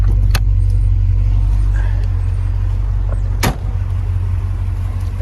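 A 1984 Porsche 928S with a 4.7 liter V8 idles in a steady low rumble close by, with a sharp click or knock partway through.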